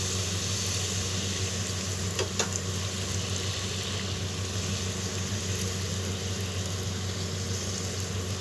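Nan puri frying in hot oil, a dense, continuous close sizzle that stays level throughout, with a brief clink or two early on.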